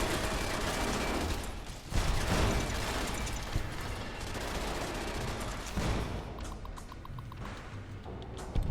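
Dense, continuous turret gunfire and mechanical clatter in Fallout: New Vegas at HELIOS One, loud and sustained with a brief break near two seconds, no talk.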